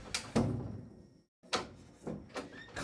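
A door swings shut indoors with a couple of sharp knocks and clunks, close and fairly quiet, followed by a few softer handling bumps.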